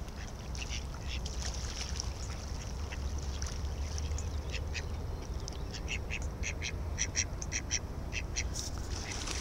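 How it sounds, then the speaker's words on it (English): Ducks being fed in a park quack repeatedly in scattered, close bursts over a constant low rumble of wind and outdoor background noise, with no talking heard. "And they're asking for more. These ducks are even getting closer."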